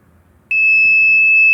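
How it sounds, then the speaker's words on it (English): A door lock system's relay-activated alarm buzzer starts abruptly after a brief quiet moment and holds a loud, steady, high-pitched electronic tone to the end. "the buzzer sounds which indicates that an alarm is on"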